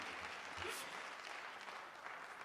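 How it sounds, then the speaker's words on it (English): A crowd applauds nominees and winners at a high school drama awards night, faint and distant clapping running steadily through the moment. "let's have another round of applause for all of our nominees and winners for 12 Angry Jurors"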